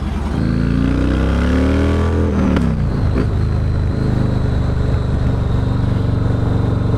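A 2006 Yamaha Warrior cruiser motorcycle with a stock 200 rear tire revs up loudly and pulls away, its deep engine note rising in pitch before settling into a steady, close rumble as it rides off.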